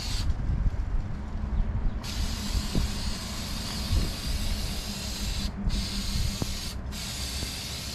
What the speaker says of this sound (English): Maxima Racing Oil spray on air filter.